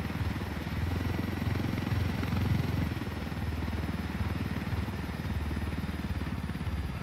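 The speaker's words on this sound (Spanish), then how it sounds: "Este helicóptero es sumamente delicado" A helicopter engine and rotor from the video game Ghost Recon Wildlands drone steadily, with a rapid, low, chopping pulse that stays loud and constant throughout and has no talk over it.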